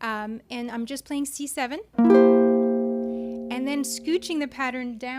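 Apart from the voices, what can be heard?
None of the usual background noises is heard.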